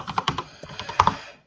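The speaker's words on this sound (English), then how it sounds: "Dang, who's typing? That's some fast typing." Rapid typing on a computer keyboard, a quick burst of sharp key clicks in uneven rhythm, fairly close, with no talk over it.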